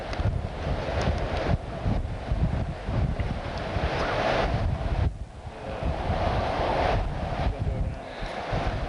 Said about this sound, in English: that wind ain't gonna stop